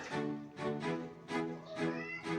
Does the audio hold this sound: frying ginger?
no